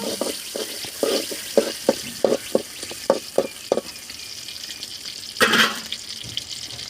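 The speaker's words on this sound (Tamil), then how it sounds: "வெங்காயம் கருவேப்பிலை பச்சை மிளகா போடப்பட்டுருக்கிறது எண்ணெய் சட்டியில். அடுத்தது எல்லாம் போட்டு வதக்கிக்கலாம்." Onion, curry leaves and green chilli go into hot oil in a pan, giving a bright, steady sizzle broken by a quick run of sharp stirring clacks and a brief louder hiss near the end, with no one speaking.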